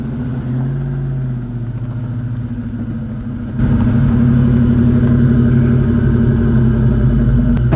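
A damaged Ford Foxbody Mustang engine idling loudly close up, a steady low rumble that steps up in volume and roughness partway through as it revs slightly.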